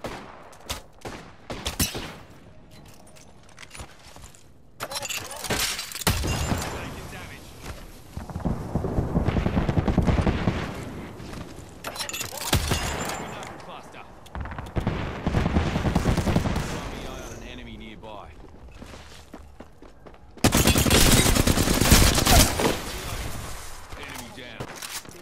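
Gunfire in the Apex Legends video game: loud bursts of rapid automatic fire and scattered single shots, some near and some farther off, with in-game voices calling out between the volleys.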